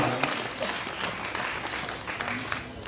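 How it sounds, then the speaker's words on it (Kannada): An audience at a Kannada devotional purana program honoring Shivasharane Niloor Nimbekka claps for the musicians, a dense, continuous burst of applause that stays fairly loud and close for the whole stretch. "ಬಹಳಷ್ಟು ಸುಂದರವಾಗಿ ಸಂಗೀತ ಸೇವೆಯನ್ನು ಮಾಡಿರುವಂತ ಕಲಾವಿದರಿಗೆ ಮತ್ತೊಮ್ಮೆ ಜೋರಾದ ಚಪ್ಪಾಳೆಗಳ ಮೂಲಕವಾಗಿ ಧನ್ಯವಾದಗಳನ್ನು ಹೇಳೋಣ."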